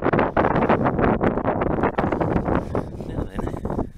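Strong gusting wind buffets the microphone on a UK beach, loud and continuous with rough bursts throughout.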